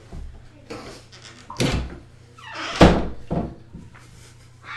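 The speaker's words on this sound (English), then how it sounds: "Let me close the door." A door swings and shuts with a solid thunk, followed by a few softer knocks and shuffling nearby, over a low steady hum.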